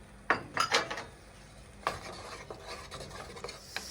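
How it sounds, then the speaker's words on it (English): Potatoes and carrots being moved around in hot oil for soy chunks stew, with a few close, bright clinks and scrapes of a utensil on the pan, then quieter scraping and a faint sizzle underneath. "we're going to add the potatoes and we're going to add our carrots and allow them to saute for about 5 to 7 minutes"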